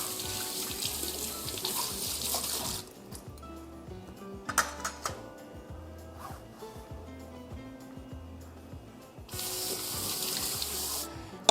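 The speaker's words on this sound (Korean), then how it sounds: "절여놓은 오이를 세척을 합니다" Salted cucumbers being rinsed under a running kitchen tap for cucumber kimchi, with steady water flow at the start and end and quieter splashing and handling of the cucumbers in between, close by and without talk.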